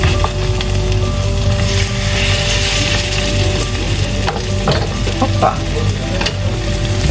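Food sizzling and frying in a pan, with stirring and scraping as pieces are flipped; loud and close, with a short spoken exclamation.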